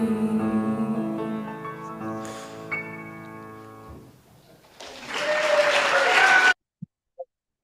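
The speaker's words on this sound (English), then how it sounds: "let's just give another round of applause" Sustained piano-like tones fade out at the end of a nativity performance, then a burst of loud applause rises and cuts off abruptly, followed by two faint clicks.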